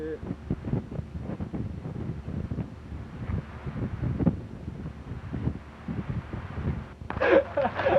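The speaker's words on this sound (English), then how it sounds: "It is so windy." Gusty wind buffets the microphone on an outdoor trail, a continuous low rumble with people talking over it throughout.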